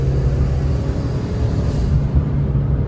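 Suzuki Wagon R engine pulling in third gear at around 3000 rpm, a steady low droning rumble that holds at an even level throughout without a clear rise in pitch.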